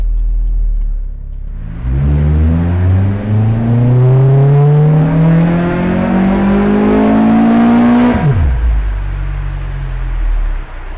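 A naturally aspirated flex-fuel Honda K24 engine revs steadily upward in one long, loud dyno pull, pitch climbing for several seconds before abruptly dropping back to idle, with a fan whooshing behind.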